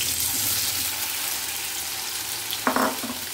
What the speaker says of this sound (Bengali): তেলটা ভালো মতো গরম হয়ে গেছে, এবার আমি পনিরগুলো তুলে দিলাম।